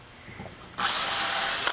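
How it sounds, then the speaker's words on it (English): A power drill bores holes into a wooden longboard blank, a faint hum at first, then a loud, steady high whine of the bit cutting through wood that lasts about a second before stopping abruptly. "So let's say I'm drilling my holes here."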